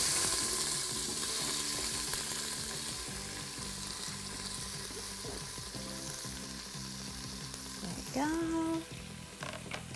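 Chopped onion and about three stalks of celery sizzle and fry steadily in oil and butter in an Instant Pot, a loud continuous crackle with a brief scrape of stirring near the end.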